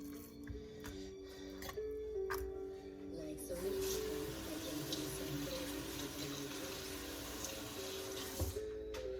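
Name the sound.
rinsing pork chops under running tap water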